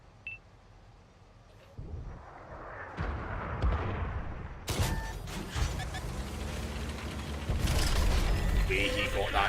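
A heavy tank gun shot in the video game World of Tanks, a sudden loud blast partway through, with clanking mechanical sounds, beeps and rumbling battle noise around it and a voice talking.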